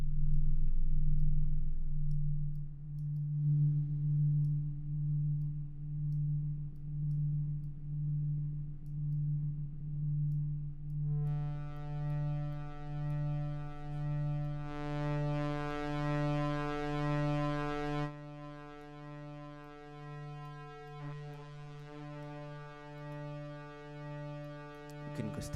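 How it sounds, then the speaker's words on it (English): Cinematic synthesizer drone with added reverb, a steady low hum with a pulsing tone and layered harmonics that thicken partway through, then thin out toward the end, heard alone with no voices. "And there we go, we've got a drone."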